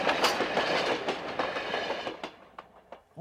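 A Grand Canyon Railway train rumbles past close by, loud rolling clatter and rhythmic wheel clicks that fade toward the end as the cars pass.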